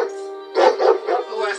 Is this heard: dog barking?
yes